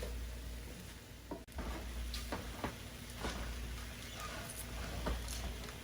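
Ground beef and onions are stirred together in a hot pan, a low continuous sizzle with several soft scraping strokes from the utensil, fairly quiet and steady with no talking.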